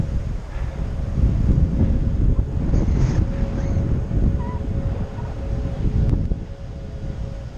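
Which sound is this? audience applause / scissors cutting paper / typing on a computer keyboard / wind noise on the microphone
wind noise on the microphone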